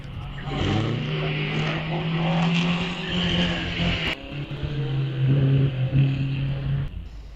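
A race car at the Wiscombe Park hillclimb in a 500 Owners Association event, a loud engine droning with pitch changes as it revs, shifts and accelerates. It sounds close and continuous with a brief break midway.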